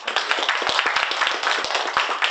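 An audience at a parasports talk gives a round of applause, brisk, close clapping with distinct individual hand strikes over a dense patter, steady throughout the brief burst.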